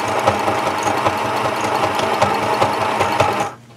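Running close and loud, a sewing machine stitches fabric for a travel case belly band, its fast, steady mechanical chatter continuing for over three seconds before it cuts off abruptly.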